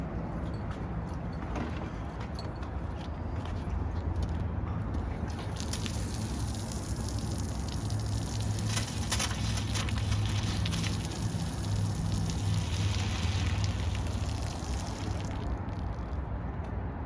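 Water hisses and sputters from an RV travel trailer's outdoor shower in a steady, noisy spray, with irregular bursts and crackles from air in the lines, heard up close outdoors.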